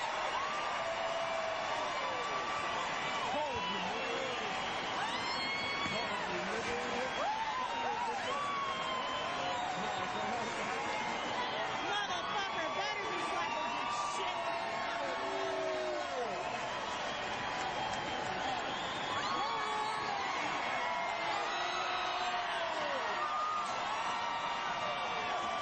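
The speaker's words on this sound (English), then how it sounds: "Here's the reception as she comes back home to this loving crowd." A large racetrack crowd roars and cheers continuously as the mare Zenyatta returns after winning the 2009 Breeders' Cup Classic, a dense steady wall of whoops and applause with voices mixed in.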